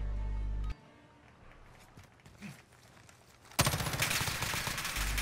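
Rapid automatic gunfire in the Call of Duty Modern Warfare video game, a loud sustained burst of shots fired at a flag, kicking in suddenly after a quieter stretch of background game ambience.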